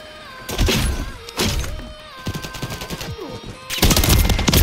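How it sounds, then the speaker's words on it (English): Rapid automatic gunfire in Call of Duty MW3 crackles in repeated bursts, close and loud, with sharp thuds between volleys and a heavy sustained stream at the end. "He's shooting me from afar."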